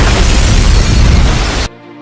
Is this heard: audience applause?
no